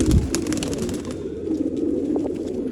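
A male old-line pigeon coos continuously close by, a low steady throaty murmur that fills the whole stretch, with faint chirps and light background activity over it and no one speaking.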